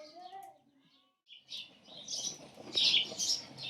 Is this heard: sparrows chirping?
yes